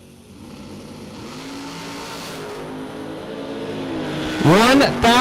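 Drag racing hot rods, including a Cadillac Roadster, rumble and rev at the starting line with an announcer talking over them, then a loud engine surge near the end as a car launches.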